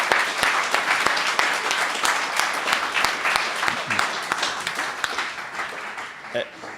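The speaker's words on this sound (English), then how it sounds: "it deserves a massive round of applause" An audience at a student journalism awards evening breaks into sustained applause, many hands clapping loudly and evenly, with a few sharp individual claps standing out before it starts to taper.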